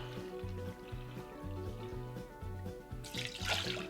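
One and a third cups of warm water poured for pizza dough, likely into a stand mixer bowl fitted with a dough hook. A short, splashy pour comes near the end, over steady background music.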